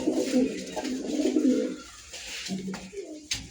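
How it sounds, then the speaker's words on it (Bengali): A Babra pigeon coos close by, a low soft warbling call repeated in a few phrases with brief pauses between them. "এখানে একটা বাবরা কবুতর আছে"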